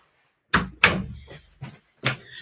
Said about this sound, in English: I'm just going to go close my door